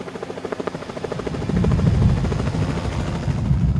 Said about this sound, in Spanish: De pronto 2 helicópteros pasaron a tan solo metros de nosotros